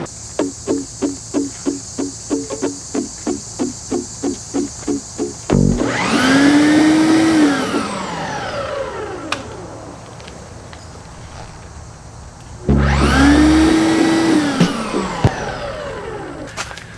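An electric dethatcher runs over a lawn, rising into two loud whining passes that sweep down in pitch, with a burst of rapid rhythmic clicking before the first pass. It is close, with no talking.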